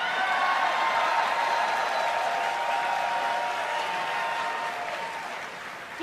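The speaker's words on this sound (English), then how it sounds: "You got louder claps than you did" Audience applause and clapping at a BlizzCon 2016 World of Warcraft Q&A, a dense, steady roar of many hands with some cheering that holds loud for about five seconds before tapering slightly.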